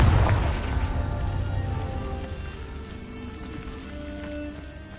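Confringo spell blast in the video game Hogwarts Legacy on PS5: a single deep boom at the start that rolls off into a long, fading rumble and crackle.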